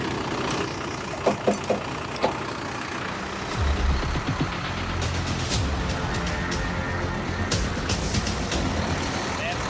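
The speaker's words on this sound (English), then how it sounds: "use the small Franner crane to help the truck up the rise" A heavy outback truck labours up a rise under tow from a small Franna crane, its deep engine drone rising and holding steady over several seconds, with clanks and mechanical knocks around it and voices talking nearby.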